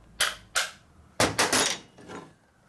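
Sharp metallic hammer blows strike a rear brake bushing on a 1952 Harley panhead: two single hits, then a quick cluster of three, and a softer final tap, loud and close.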